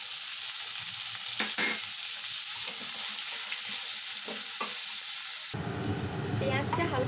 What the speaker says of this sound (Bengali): ফোড়নটা হালকা লাল হয়ে এলে আমি এর মধ্যে কেটে রাখা পেঁয়াজগুলোকে দিয়ে দেবো